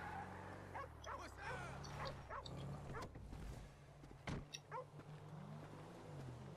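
Dog in GTA V whimpers and yips with a few short barks, fairly close, over a steady low engine-like hum and other game ambience, with a voice speaking at moments.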